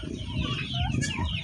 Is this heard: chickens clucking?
yes